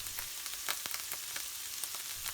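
Salt, paprika, chilli, cumin and mixed spice powders sizzle in a hot pan for a British Indian restaurant-style rogan josh, with a steady close frying hiss and sharp crackles and pops throughout.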